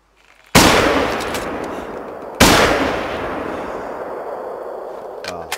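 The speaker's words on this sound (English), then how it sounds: "see if this is a 270 rifle I'm using with the polymer" Two loud, sharp .270 rifle shots fire about two seconds apart in the hunting video game The Hunter: Call of the Wild, each followed by a long fading echo, with no talk.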